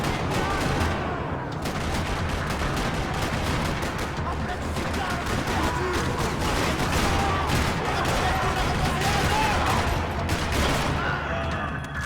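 Dense, continuous video game gunfire crackles and rattles without pause in a parking lot, rapid bursts layered into a loud, chaotic barrage.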